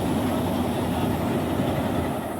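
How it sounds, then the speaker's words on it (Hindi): Railway locomotive rolling slowly onto a turntable, a steady low rumble of heavy wheels and machinery that carries on without a break, with no talk over it. "ये पूरा लोकोमोटिव शिफ्ट हो गया जिस टर्न टेबल के ऊपर।"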